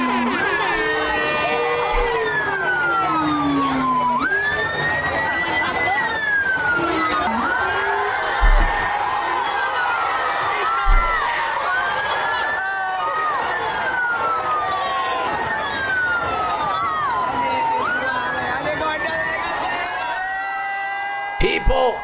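An ambulance siren wails in repeated rising and falling sweeps during a New York City street celebration, with a loud, dense crowd cheering, whooping and shouting all around it throughout.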